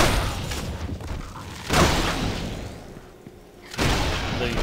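The cannon skill in Torchlight 2 fires in heavy, booming bursts, one near the start, another about two seconds in and a third near the end, each a loud, broad blast with a rumbling tail.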